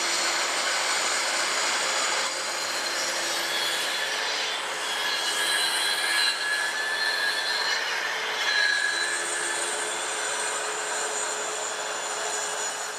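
A floor cutting machine hooked to a vacuum cleaner runs steadily for several seconds, giving off a loud continuous whining roar with shifting high-pitched tones and no speech.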